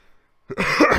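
After a brief near-silence, a single harsh cough bursts out close to the microphone, rough and throaty, trailing into a gravelly exhale.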